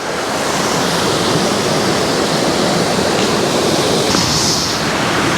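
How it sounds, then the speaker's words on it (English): A river rushing near a wild bivvy camp, a loud, steady wash of broadband water noise that fills the whole clip without letup and with no voices. "hopefully you can hear me over the noise of the river."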